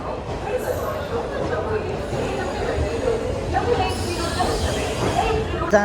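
A train at a crowded, busy railway station, with steady rumbling rail and platform noise throughout and the hubbub of people talking over it.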